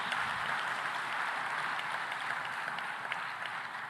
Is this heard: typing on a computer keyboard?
no